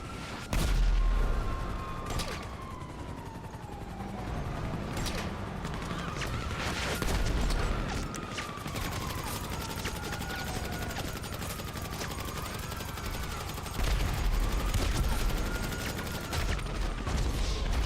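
Dense GTA Online gunfire rattles in repeated bursts and single shots, layered over busy in-game background sound and a rising-and-falling siren-like tone at steady volume.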